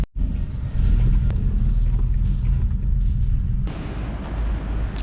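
A car being driven, heard from inside as a loud, steady low engine and road rumble that starts abruptly and continues without a break.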